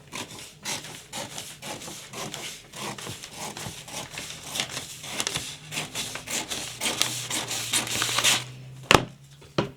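Scissors cut out the back piece of fabric for summer overalls, a quick run of close, rhythmic crunching snips that speeds up and grows louder toward the end, with a couple of sharp clicks and no talking.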